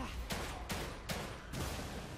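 Four evenly spaced gunshots from The Evil Within 2, a survival horror game, fired at an enemy's back-mounted tank, each a sharp crack over a steady, loud background rumble with no voice over them.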